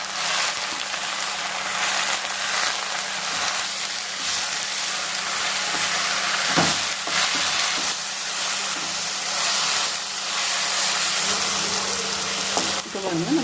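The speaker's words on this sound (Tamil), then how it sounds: "அலசி தனியாக வச்சுருக்க கோங்குரா இலையை வந்து ஆட் பண்ணிக்கலாம். இப்போ இது வந்து நம்ம நல்லா வதக்கிக்கலாம்." Gongura leaves sautéing in a pan for Andhra-style gongura pachadi, giving a steady, even frying sizzle and hiss throughout with a few brief knocks and stirring scrapes.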